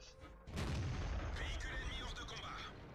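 Tank cannon fire in World of Tanks during a fight with an E75: a single heavy boom bursts out about half a second in, followed by a long, loud rumbling decay.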